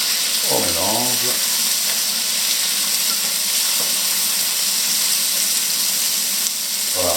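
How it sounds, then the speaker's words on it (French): Vegetables for a honey ratatouille browning gently in a pan, giving a steady, loud sizzle and frying hiss throughout, with a brief voice near the start. "Voilà, ça c'est un rissolage correct."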